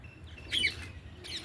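A few brief, faint bird chirps ring out from a small rooftop flower garden, thin high tweets over a quiet background.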